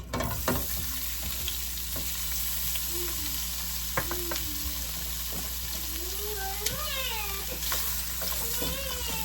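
Cajun sausage sizzles and spatters steadily in hot vegetable oil, a dense continuous frying crackle with occasional stirring scrapes, close and loud throughout.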